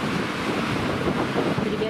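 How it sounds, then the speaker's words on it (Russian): Rough sea waves churn and crash on a very windy day, a dense roar of surf mixed with heavy wind buffeting the microphone, continuous and loud throughout. "Ну, смотрите, какое море страшно."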